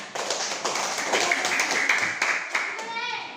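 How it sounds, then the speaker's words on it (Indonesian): A class of children claps hands during a lesson, a dense run of claps that fades out near the end, with some faint voices in the room. "berikan tepuk tangan"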